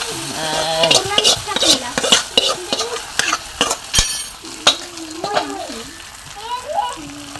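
A spoon stirs and scrapes ingredients roasting in coconut oil until brown, making loud, repeated scrapes over a crackling sizzle while a person talks on top.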